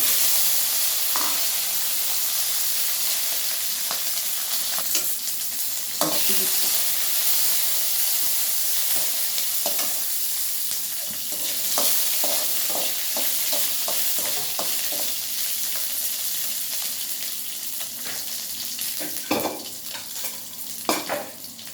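Coriander seeds and green chillies fry in a pan for mint chutney, giving a steady close hiss and sizzle broken by scattered crackles and stirring clatters, with no talking.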